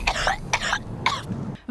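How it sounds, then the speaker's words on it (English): A person coughs in a fit after vaping: three harsh, close bursts of coughing and throat clearing in quick succession, then a brief silence. "Vapes and then has a coughing fit."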